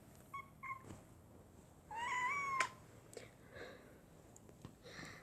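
A cat meows twice, a short call and then a longer drawn-out one, close and fairly clear in a quiet room.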